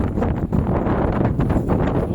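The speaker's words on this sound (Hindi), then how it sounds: "हल्की ऐसी हवाएं अभी चल रही है" Steady wind at Fateh Sagar Lake at night rushes and buffets against the microphone with a low, continuous roar, fairly loud throughout.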